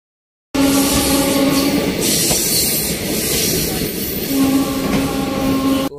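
Gomti Express passenger train running between Delhi and Lucknow, a steady loud rumble of wheels on track with a sustained whining tone near the start and end, heard from close by with no talking.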